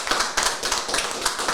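An audience at a conference on secularism applauds after a talk, a short burst of dense, close clapping with no voices over it.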